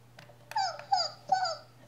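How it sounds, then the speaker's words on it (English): A robot toy dog built from a STEM building set gives three short electronic yelps and woofs in quick succession, close and fairly quiet, over a faint steady hum. "A little woof, barks, some yelps, and he moves because of the way we put him together with the robotics."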